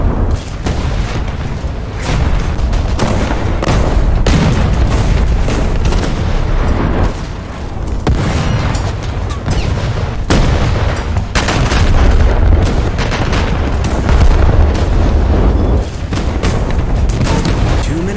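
Huge battleship shells exploding on Maus heavy tanks in War Thunder, a near-continuous barrage of deep booms and blasts with rumbling low end, loud and dense for the whole stretch with no voices.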